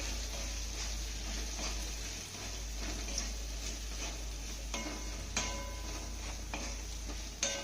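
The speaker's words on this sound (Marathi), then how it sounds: "घातलेली भेंडी आपल्याला तीन ते चार मिनिटं चांगली परतून घ्यायची आहे" Okra is stir-fried in a pan with a steady, close sizzle and occasional light clicks and scrapes of stirring, heard alone without talk.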